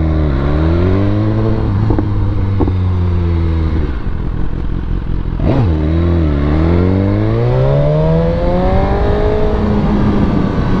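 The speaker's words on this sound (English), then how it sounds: "when I hit that throttle and start pulling off" A BMW S1000RR superbike engine roars loudly and close as the throttle is opened, rising through the revs in repeated climbing pulls with a brief dip and shift in the middle, harsh and sustained throughout.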